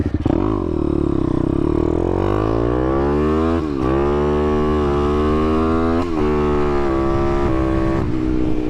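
A YCF pit bike with a 190 Daytona engine revs hard and accelerates up through the gears, its loud rising engine note dipping briefly at each shift, close and steady with no talking.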